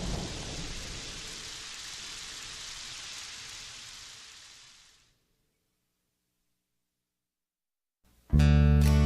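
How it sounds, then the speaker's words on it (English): Steady rain with low thunder rumbling beneath it. The sound holds for about five seconds, fades into silence, and then loud music cuts in near the end. "So listen to the rhythm of the tiny little raindrops on your window pane"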